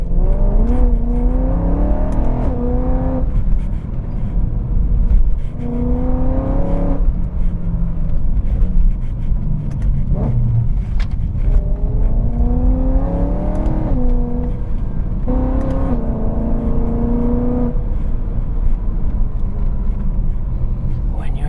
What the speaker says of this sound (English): This car is so crisp when doing the downshifts.